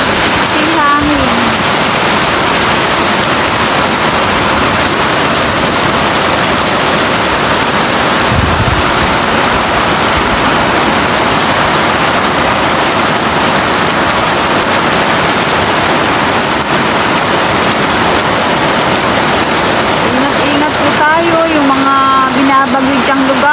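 Heavy typhoon rain pours steadily in Bataan, a dense, loud hiss with gusting wind that holds throughout, and a voice speaks briefly near the end.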